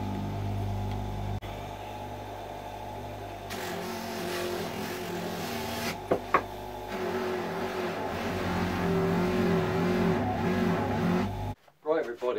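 A Damascus steel knife blade held below a spinning buffing wheel, a steady motor whine with a rough grinding texture and a few brief clacks, the motor stopping near the end; someone talks over it.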